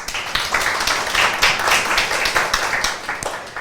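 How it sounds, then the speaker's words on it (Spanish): Close, loud applause from a conference audience at a notarial eviction law event, a burst of many hands clapping with distinct sharp claps standing out, lasting a few seconds. "Un aplauso para ella, por favor."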